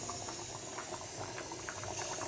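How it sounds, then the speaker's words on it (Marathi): Chickpeas cooking in a pot on a gas stove set to medium, a steady close boiling hiss with faint bubbling pops that continues without a break. "आणि मिडियम गॅसवरती आता ही चणे शिजवून घ्यायचे."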